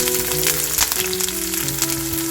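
Ginger and curry leaves frying in hot oil for a gooseberry pickle, a close, steady crackling sizzle with scattered pops and no talk.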